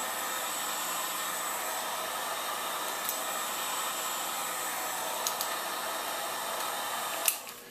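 A heat gun blows a steady, even hiss while heating a receiver clamped in a vise, with a few faint clicks and a sharper tap near the end.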